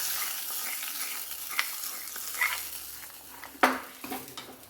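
Mustard seeds, urad dal, small shallots, dried chillies and a pinch of asafoetida tempering in sesame oil, a soft steady sizzle with a few sharp pops and light clinks of a ladle against the pan.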